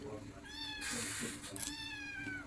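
A pet cat meows repeatedly at close range, drawn-out tonal cries in a domestic kitchen, with faint background voices and household noise underneath.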